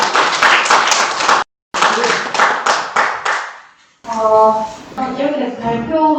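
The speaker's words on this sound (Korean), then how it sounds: "박수로 모시겠습니다" Applause from a seminar audience welcoming youth presenters at a Busan youth policy event, two bursts of clapping separated by a brief cut, trailing off before a person begins speaking.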